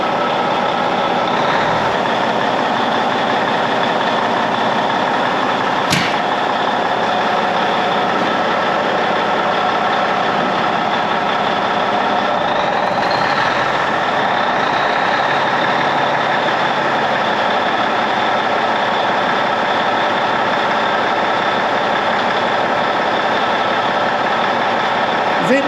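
A 1993 Peterbilt cabover truck's engine runs steadily and loudly throughout, a continuous diesel rumble that builds slightly as it begins to move, with voices talking over it.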